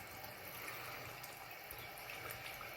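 Baking soda stirred into water in a small container, a steady close wash of liquid sloshing and gurgling with no pauses, fairly quiet and continuous.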